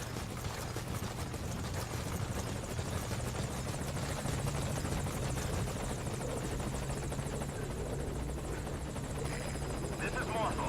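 In Metal Gear Solid Ground Zeroes, the helicopter Morpho arrives at the landing zone with a loud, continuous rotor thrum and rhythmic blade chop. A low engine drone and wind noise run under it the whole time.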